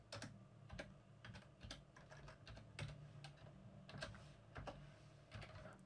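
Someone types on a computer keyboard in quick, irregular clicks, close by and soft, with no voices.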